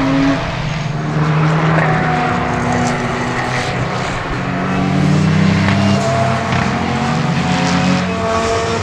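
A Porsche GT3 Cup race car roars around a track, a loud, sustained engine drone that swells and eases through gear changes, heard close up without any talking.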